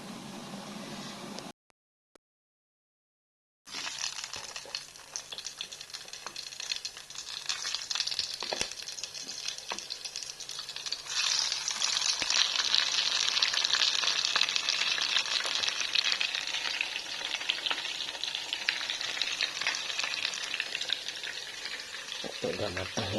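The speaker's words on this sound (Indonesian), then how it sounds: "Udah aku goreng." Tempeh and eggplant slices coated in seasoned flour batter fry in hot oil, giving a steady, close crackling sizzle. Stirring and crinkling noises come and go, the sound cuts out briefly near the start, then grows louder and denser midway.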